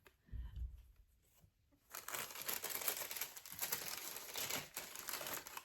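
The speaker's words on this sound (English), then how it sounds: "excuse the rustling" Plastic packaging rustles and crinkles close by, a crackly stretch of handling after a brief quiet moment.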